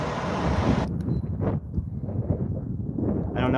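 Wind gusting at an outdoor skydiving dropzone during Hamvention, a steady loud roar buffeting the microphone for the whole few seconds, with no clear talk over it.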